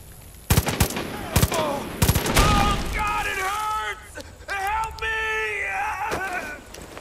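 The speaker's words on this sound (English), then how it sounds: "I'm shooting BBs at this guy." Gunfire from the video game Far Cry 5: a few sharp loud bursts of shots early on, followed by sustained game sound with tonal effects, loud and close.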